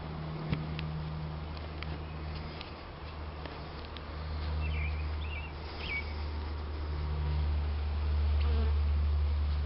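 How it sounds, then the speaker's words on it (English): A mass of honeybees swarming inside a capture box in a backyard, giving off a steady low droning hum with the loudness gently swelling, with no talk over it. "Just a mass of bees."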